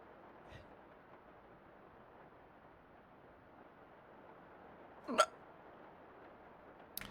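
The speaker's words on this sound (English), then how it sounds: "I have hiccups." Hiccups from a single person, two sharp, close little gulps about five seconds apart with a third just starting at the end, set against a faint steady hiss.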